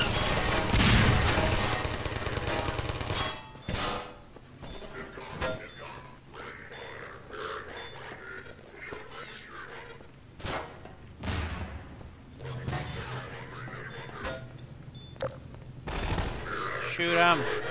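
Gunfire in the video game Half-Life 2, a dense loud burst of shots at the start, then scattered single blasts and short volleys with quieter gaps between.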